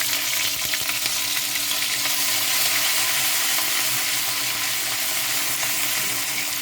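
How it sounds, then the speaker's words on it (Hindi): Ginger frying in oil over a low flame: a loud, continuous close-up sizzle with light crackling and occasional stirring, steady throughout with no talk. "उसके बाद अदरक को भी तेल में थोड़ा सा भूनेंगे"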